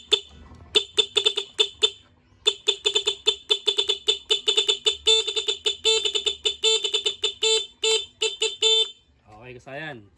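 Rapid series of short electronic motorcycle horn beeps, loud and close, pulsing in quick bursts with brief gaps, ending in a warbling tone.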